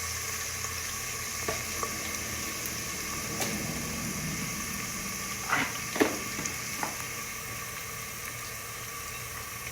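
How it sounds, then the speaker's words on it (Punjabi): Garlic and ginger with a little cumin fry gently in a pan over low gas, a soft steady hiss broken by a few faint pops and clinks. "ਹੁਣ ਇਹਨਾਂ ਨੂੰ ਆਪਾਂ ਮਾੜਾ ਜਿਹਾ ਬਰਾਊਨ ਕਰ ਲਾਂਗੇ ਲਸਣ ਤੇ ਅਦਰਕ ਨੂੰ"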